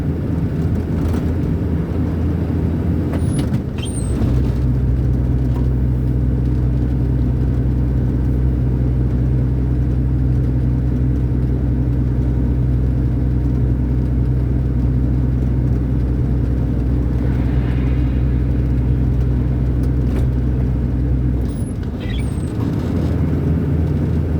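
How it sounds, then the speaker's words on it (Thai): A heavy truck rolls toward a downhill mountain descent near the Buriram–Sa Kaeo provincial border in Thailand, its engine a loud, steady low drone and rumble that holds throughout with no voices. "รถบรรทุกหนักนะครับ"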